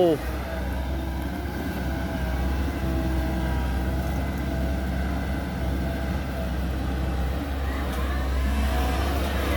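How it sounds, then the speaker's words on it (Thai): A Komatsu PC130-10MO excavator with a turbocharged engine runs at a steady, loud, droning hum while digging out an old pond, holding constant throughout with a low rumbling tone. "เครื่องยนต์น่าจะตัวเดียวกับ PC 70 นะครับแต่ว่ามีเทอร์โบ"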